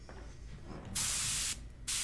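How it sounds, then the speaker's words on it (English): An airbrush loaded with India ink is blown out in two loud, close bursts of spraying hiss, the first about half a second long and the second starting just after it, with no talking. "I'm going to blow out the airbrush a little bit"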